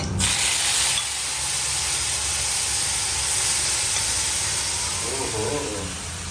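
Garlic hitting a hot pan gives a loud, continuous close-up sizzle that stays strong throughout and eases slightly at the very end.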